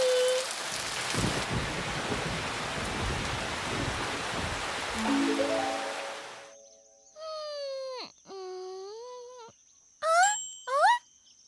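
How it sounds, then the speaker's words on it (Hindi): Steady rain pours down loudly for about six seconds and then stops abruptly, leaving near silence broken by a few short, tonal chimes. "बारिश रुक गई।"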